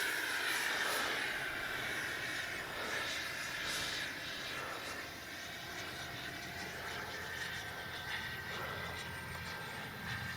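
A Freewing 80mm MiG-21 RC jet with a new power system flying over a runway, its distant whooshing turbine-like whine rising and fading as it passes, steady and fairly faint against background air.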